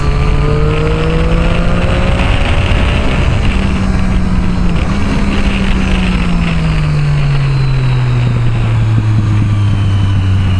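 A BMW i8 engine revs in a steady, droning tone that rises and falls in pitch and sweeps downward near the end. It is loud and continuous throughout, with no talking.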